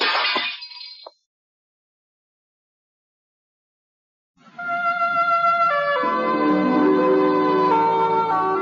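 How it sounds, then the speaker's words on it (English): A short burst of glass breaking and tinkling, then a long silence before a sustained siren-like wailing tone rises and continues. "The man at the window fell forward, shattering the glass."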